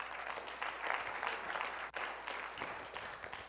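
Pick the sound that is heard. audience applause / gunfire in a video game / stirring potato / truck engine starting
audience applause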